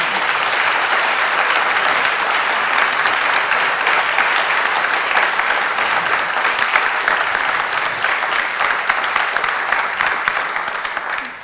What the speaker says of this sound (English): I would ask you to give all of our panelists, please, another round of applause.